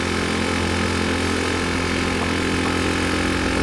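A Rusi Gamma 200 motorcycle engine idles with a steady, continuous low hum and no break in its rhythm, running alone without any voices.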